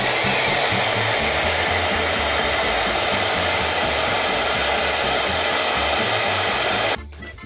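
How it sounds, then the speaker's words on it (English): A hair dryer blows with a loud, steady whooshing hum for several seconds, then switches off abruptly near the end. "I might get a blow dryer to do"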